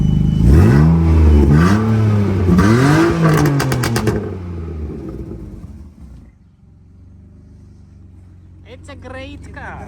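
A fire-damaged BMW E36 328ti engine revs loudly three times in quick rising and falling sweeps up close, then drops to a quiet idle, with brief voices near the end.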